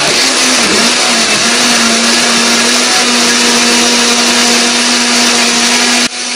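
A blender whirs loudly and continuously at high speed, blending eggs and chilies, a steady motor drone that cuts off abruptly near the end.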